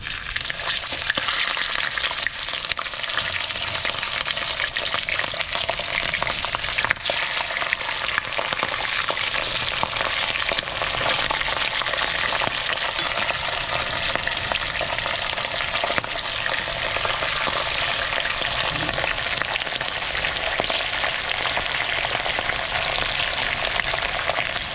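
Wild fish frying crispy in a pan, a loud, steady, continuous sizzle and crackle of hot oil that runs unbroken throughout, close and alone.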